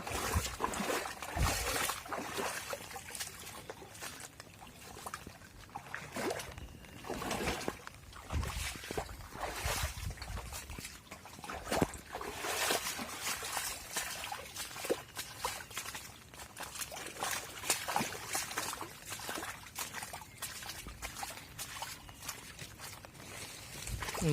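Someone wades along a flooded village road, feet splashing and sloshing through standing water in a steady, irregular rhythm. The sound is close and moderately quiet, with rustling and outdoor ambience.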